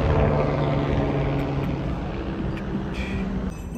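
A helicopter flies near Kedarnath on back-to-back pilgrimage shuttle runs, producing a steady, loud rotor and engine drone that holds at an even level throughout.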